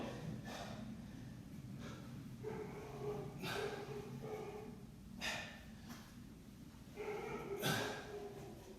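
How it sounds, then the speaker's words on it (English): Dogs bark in a few separate bursts at mid distance, spaced several seconds apart over a steady low background hum, during a home lockdown workout. "And there goes my dogs."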